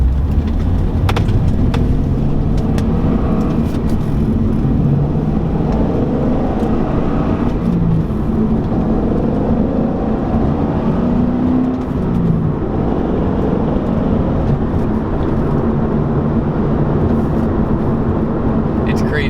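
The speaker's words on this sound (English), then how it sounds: "It sounds like a stock car" LS3 V8 car with its aftermarket exhaust valve closed, accelerating through the gears with a muted, stock-sounding engine note that stays steady and moderately loud throughout, with voices talking over it.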